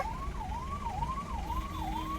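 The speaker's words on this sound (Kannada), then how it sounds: "ಆಂಬುಲೆನ್ಸ್ ಸೌಂಡ್ ಕೇಳಿಸೈತೆ, ಆಂಬುಲೆನ್ಸೇ ಇಲ್ಲ." An ambulance siren wails steadily from a car rather than an ambulance, its pitch sweeping up and down in a fast repeating cycle, loud and close with traffic rumble underneath.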